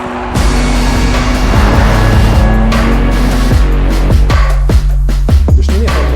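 A pre-production BMW M3 sedan drives hard at the Nürburgring, its loud engine note climbing in pitch through repeated gear changes, with quick rising sweeps and sharp shift breaks toward the end.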